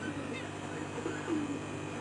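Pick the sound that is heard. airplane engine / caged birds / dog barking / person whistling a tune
caged birds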